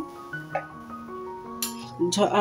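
A lid is set onto a cooking pot of gravy, giving a few light clinks and then a louder rattling clatter at the end, close by over a faint tonal background.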